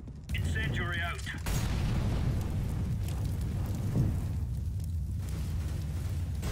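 An incendiary grenade going off in Counter-Strike: Global Offensive, a sudden burst followed by a sustained roaring crackle of flames under in-game gunfire, with a player's voice chatting briefly near the start.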